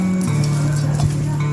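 Raw mango being mixed by hand with chili flakes and salt, a steady wet stirring and scraping with a low tonal hum running underneath, close and continuous.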